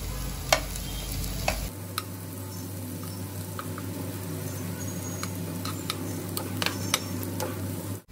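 Chillies sautéing in hot oil with onions already fried red, a steady soft sizzle with occasional ticks and stirring clicks, close and alone without talk.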